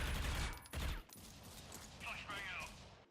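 A volley of gunfire rattles out in the mobile shooter Critical Ops during a tournament match, a burst of quick shots up front followed by quieter game sounds and effects.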